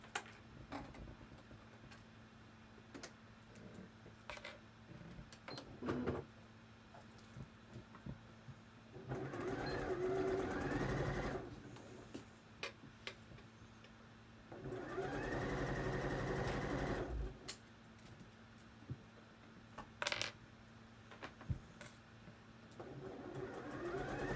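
A sewing machine running a straight-stitch hem on a Kielo wrap dress fabric, two steady whirring bursts of a few seconds each set apart by quiet handling clicks.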